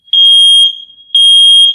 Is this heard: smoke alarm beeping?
yes